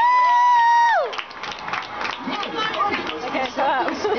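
A crowd at a Chuck E. Cheese restaurant claps and cheers for birthday children right after a held electronic tone cuts off, with scattered shouts and voices mixed into the lively, moderately loud clapping.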